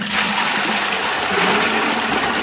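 A continuous rush of water, used to spray aphids off plants, pouring from a bin and splashing into a bucket, steady and close for the whole stretch.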